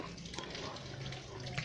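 Rainwater striking the ground in a steady, dense wash of splashing that runs unbroken throughout at low volume.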